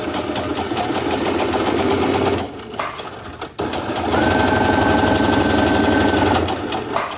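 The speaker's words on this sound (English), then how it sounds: "once you start stitching, stitch once and then back stitch a couple of times as close to the fabric edge as you want it" A sewing machine stitches knit fabric in a loud, rapid mechanical whir with regular needle clatter, pausing briefly midway before running again at a steady pace.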